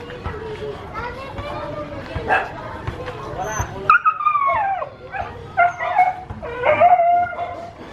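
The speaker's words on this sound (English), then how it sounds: "Dogs." Dogs bark and yelp in short bursts, some howling and whining, with voices and children's sounds mixed in around them.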